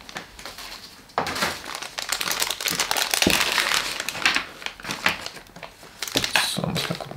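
Plastic bags holding parts of a Yamaha YZR M1 MotoGP model kit crinkle and rustle close by, in a long run of irregular crackling handling noise.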